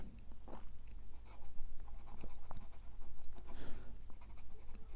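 A Schneider Ray fountain pen nib scratches across paper while writing reverse side up, producing a continuous dry scratchy rasp with short strokes and brief pauses, close and clear.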